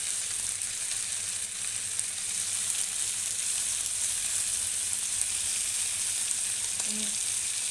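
Fish pieces fry steadily in a pan over a low gas flame, a loud, continuous close-up sizzle with a faint clink near the end.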